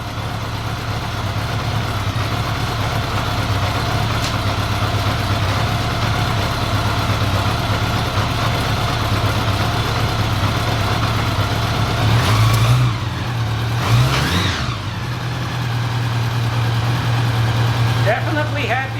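Honda Goldwing motorcycle engine running with larger carburetor jets, a steady loud idle holding throughout with a brief rev and dip near the end, close up.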